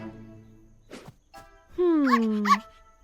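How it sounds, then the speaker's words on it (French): A cartoon puppy on a farm lets out a couple of short, bright yips near the end, following softer sounds and a quiet voice earlier on. "Oh, un des chiots a suivi Buster dehors."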